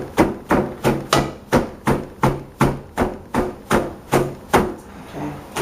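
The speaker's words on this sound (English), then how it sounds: "You hear that click, click, click. I'm hitting the bottom of the pan." A blade chops cabbage in a pan for sauerkraut, striking in a steady rhythm of about a dozen sharp, loud, evenly spaced knocks, each one clicking against the bottom of the pan.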